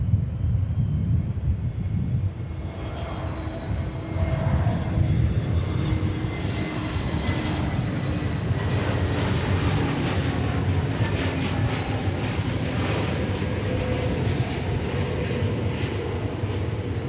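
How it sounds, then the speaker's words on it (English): A passenger plane arriving from Las Vegas at DFW Airport gives a steady, loud jet engine roar that rumbles on without a break, heard from outdoors at a moderate distance. "Here comes the flight from Las Vegas."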